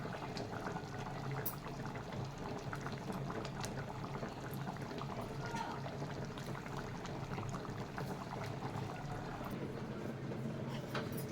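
Goat pancreas simmers in water in a pot, a steady low bubbling and gentle seething that runs evenly and quietly throughout with no talk.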